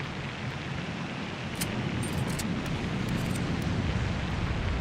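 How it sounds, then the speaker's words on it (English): Steady rain in the airport-building video game SimAirport, a constant broadband hiss filling the whole stretch at even loudness with no talk over it. "Oh my word, look at the rain."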